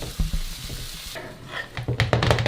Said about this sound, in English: I'm going to throw it in a tin of tomatoes.